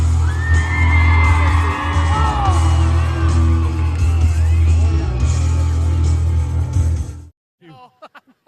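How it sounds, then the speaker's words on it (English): A rodeo arena crowd screams, whoops and cheers in a loud, sustained roar lasting about seven seconds before it cuts off abruptly, leaving brief faint voices. "Somebody scream."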